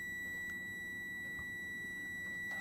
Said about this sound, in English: Now let's check the continuity of the input.